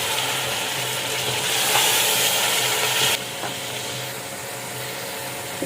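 Garlic, ginger and green chili frying in a pan, a steady, close sizzle that briefly intensifies, then settles slightly quieter.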